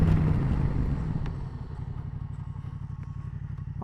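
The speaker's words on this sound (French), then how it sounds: "On entend l'ABS quand même," A 2017 Yamaha Tracer 700 A2 motorcycle brakes hard with both brakes at once, and its ABS works. The engine rumble fades, then gives way to a close, rapid, regular pulsing chatter.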